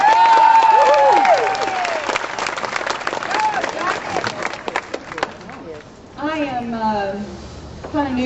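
Crowd at a Tea Party rally applauding and cheering loudly for a speaker, the clapping fading after a few seconds into scattered claps and murmurs as people talk.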